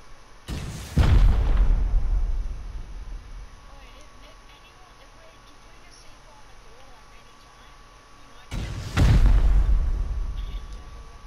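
Rocket explosions hitting a base during a raid in Rust, two heavy booming blasts several seconds apart, each loud with a rumbling tail, with speech in between.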